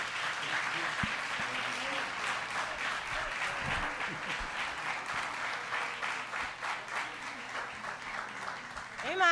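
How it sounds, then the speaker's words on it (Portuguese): Church congregation clapping their hands in a thick, continuous patter, with a voice talking faintly underneath and a brief louder swell at the very end. "Tem mais, pode bater mais palmas."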